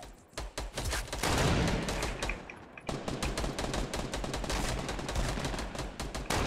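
Dense bursts of rapid gunfire crackle through a Fortnite match, with sustained automatic fire and a brief lull before shots resume steadily to the end.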